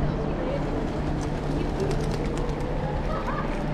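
Pigeons coo softly at Huddersfield Open Market, an outdoor market, heard faintly within a steady wash of street and crowd noise.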